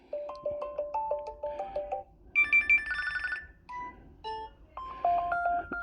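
Ringtone chimes play on a Samsung Galaxy Watch Ultra smartwatch, a series of short bright electronic melodies and beeping tone patterns in quick rhythmic bursts, moderately quiet and close, with no talking.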